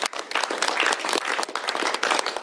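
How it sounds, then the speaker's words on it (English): An audience applauding at a governor's bill signing, dense, close clapping from many hands that runs steadily through the short moment. "Round of applause, everybody, for all this being done."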